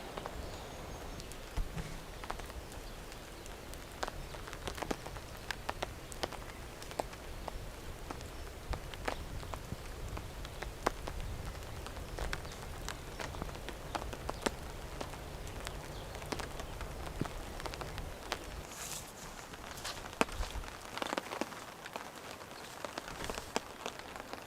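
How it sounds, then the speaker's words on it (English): Light, spitting drizzle patters steadily on a camping tent, a faint, consistent scatter of soft drops with occasional sharper taps, continuing without voices. "As you might be able to hear, it's just spitting, sort of drizzling rain, but pretty consistent."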